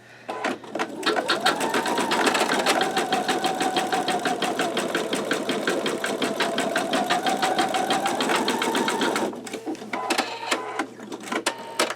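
Embroidery machine fitted with a magnetic hoop stitching a heavy satin stitch at medium speed, a loud steady rapid clatter of needle strokes with a whirring motor that runs for about nine seconds then slows to intermittent stitches.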